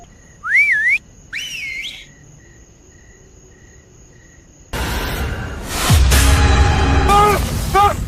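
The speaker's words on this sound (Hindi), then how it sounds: "सर, कोई बदतमीज सीटी मार रहा है मुझे।" Someone whistles in the dark at night, two short rising whistles followed later by a series of quick whistled notes over loud background noise, with crickets chirping steadily throughout.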